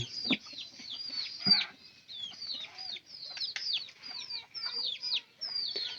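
Chickens cluck softly amid a steady stream of high, rapid peeping chirps from chicks, fairly close and continuing throughout.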